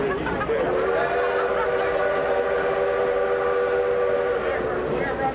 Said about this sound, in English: The 2248 is an oil burner, and while engineer Earl Noob runs the train